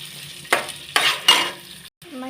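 Urad dal, chana dal and onion stirred in a pan, with three distinct scraping, rustling strokes of a utensil against the pan over a soft background, then a brief pause and a faint clink.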